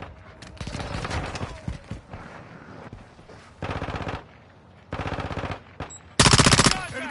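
Gunfire in a video game battle: rapid automatic bursts, some distant and some close and loud, in separate rattling volleys with brief pauses between, the final burst the loudest.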